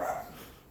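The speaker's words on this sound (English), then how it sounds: "We got dogs next door." A dog next door gives a single short bark at a moderate distance, fading quickly into outdoor background noise.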